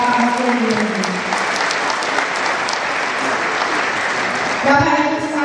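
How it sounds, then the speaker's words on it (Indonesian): Loud, sustained applause from a graduation ceremony audience in Jakarta for the vice governor, continuous clapping with a speaking voice running over it and rising again near the end. "Berikan tepuk tangan kepada Bapak Wakil Gubernur"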